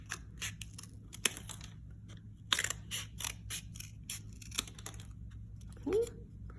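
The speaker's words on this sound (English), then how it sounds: "you're going to cut some strips of the toilet paper roll" Scissors snipping strips from a cardboard toilet paper roll, a series of sharp, close, dry cuts in an irregular rhythm, quiet and with no talking.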